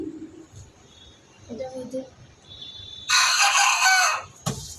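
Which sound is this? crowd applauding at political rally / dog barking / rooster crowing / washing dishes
rooster crowing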